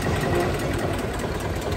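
A steady, rumbling engine of an old 1992 Eicher 242 tractor, modified, idling close by, with a continuous low throb and slight rhythmic knocking, no voices.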